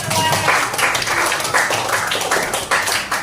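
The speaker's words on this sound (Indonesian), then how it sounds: "tepuk tangan untuk Kak Hisam" A group of children and adults in a sixth-grade math class claps for a presenter, with loud, uneven bursts of hand claps repeating in rough waves.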